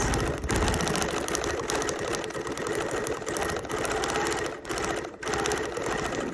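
Sewing machine stitching detail on a collage quilt, a fast continuous mechanical whir and rattle up close, running steadily with a few brief pauses.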